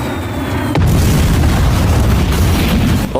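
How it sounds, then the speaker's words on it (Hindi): A MiG-21 ejection seat fires with a loud, sudden blast that cuts in sharply and then stays as a sustained heavy roaring rumble, close and dominant, with no voices. "जोरदार धमाके के साथ वह आसमान में उछले"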